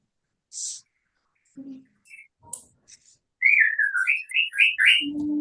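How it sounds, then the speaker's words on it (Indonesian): A bird chirps in a quick run of bright, rising and falling whistled notes, close and clear, after a few soft scattered sounds and near-silence, with a faint low voice at the very end. "Aduh, ada burung."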